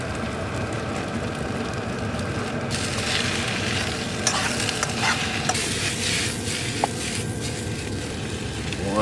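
Onion and mushrooms sizzle steadily in a pan during a winter truck-camping cook, a constant close frying hiss with a few stirring scrapes and clicks, no talking.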